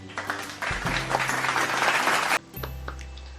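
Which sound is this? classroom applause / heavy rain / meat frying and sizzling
classroom applause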